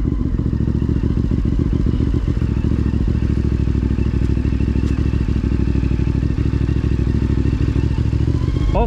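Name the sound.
450MT motorcycle riding off-road downhill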